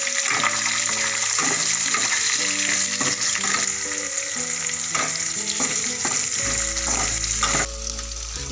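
Chopped onion hits hot oil with dry red chillies, bay leaf and cinnamon, giving a steady, close sizzle throughout, heard beneath background music with clear melodic notes.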